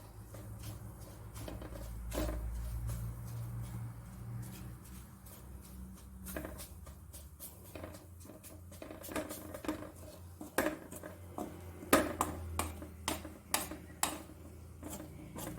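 Drumstick leaves and chilli for a jackfruit-seed thoran are tossed in a pan, giving sharp metallic clinks and scrapes of a spoon that come in irregular bursts and grow busier and louder toward the end, with no talking.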